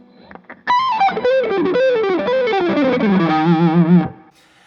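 A heavily distorted electric guitar plays a fast descending metal lick, notes tumbling down quickly before ending on a repeated low note, loud and up close.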